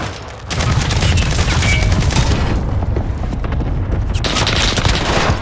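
Dense, loud rapid gunfire from a first-person shooter video game, a continuous fusillade of shots and bursts running almost the whole time with no voices over it.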